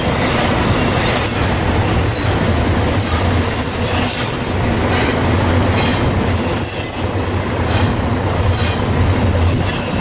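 An eastbound freight train near Barstow, California, accelerating close by, with loud rumbling wagons and squealing wheels in a continuous roar throughout.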